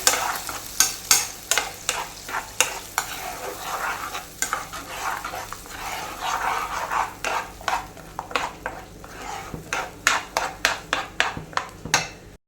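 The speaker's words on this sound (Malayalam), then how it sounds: "ഇനി ഇത് നല്ലപോലെ ഒന്ന് മിക്സ് ചെയ്ത് കൊടുക്കാം നല്ലപോലെ ഒന്ന് തിളച്ച് വരട്ടെ" Red spinach curry stirred in a pan, a run of sharp spoon scrapes and knocks against the metal in a loose rhythm over a low bubbling simmer, close up.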